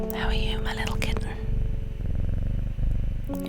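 A cat purrs steadily in the video game Strange Horticulture, a soft continuous rumble heard throughout while a person whispers over it.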